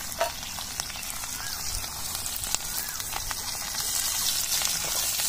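Potatoes frying in hot oil give a steady, dense sizzle with crackling pops, holding close and fairly loud throughout without any voices.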